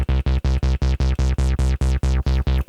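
Yamaha DJX keyboard synth patch with added filter resonance, playing a steady run of about twelve evenly spaced, loud, buzzy notes, each with a sweeping resonant peak, heard alone with no talking.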